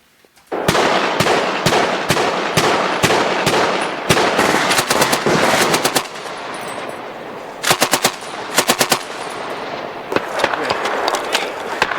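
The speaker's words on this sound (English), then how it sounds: "obviously blank rounds throughout this entire experience" Blank rounds fire during a military training exercise with Devil's Brigade recruits, loud close bursts of rapid automatic gunfire and scattered single shots echoing outdoors, with voices faint in between.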